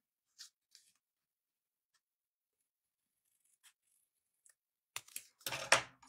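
Scissors snipping through folded paper while a fan-shaped card is made, a few faint isolated clicks early on, then a louder close burst of cutting and paper handling at the end.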